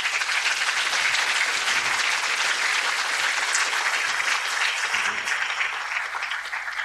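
An audience at a formal event applauds the former Minister of Finance: sustained, dense clapping from many hands that holds steady for several seconds before thinning slightly at the end.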